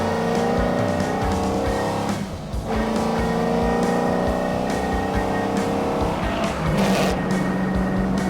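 BMW 330i driven at full throttle through a corner on a race track in third gear, a loud steady engine roar held at high revs with brief dips and tire noise, no talking.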